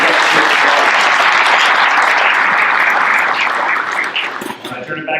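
A large audience at a Kiwanis club meeting breaks into loud, sustained applause welcoming guests, a dense wash of clapping that thins and tapers near the end.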